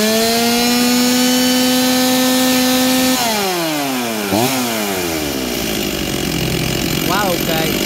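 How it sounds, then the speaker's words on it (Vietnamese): A small engine runs at a steady high idle near at hand, then drops and rises through several uneven revving sweeps before settling into a rougher, lower running note. "Rồi bây giờ em sẽ tiến hành giật con máy này nổ cho các anh nghe tiếng máy nó chạy như thế nào ha"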